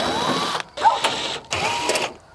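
A power drill whirs in short bursts as screws come out from around the perimeter of a panel on tornado-damaged property, with three runs of about half a second each separated by brief pauses, close and loud.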